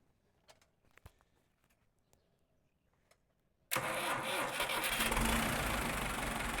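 A Belarus MTZ tractor engine cranks and catches abruptly, then settles into a loud, steady, close running roar after a few quiet knocks and clicks.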